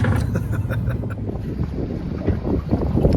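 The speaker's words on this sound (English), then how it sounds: "Pretty windy" Steady wind roars and buffets across the microphone during stormy weather at a boat haul-out, a constant rushing noise with no voices.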